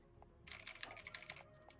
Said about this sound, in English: I feel like my keyboard's worse.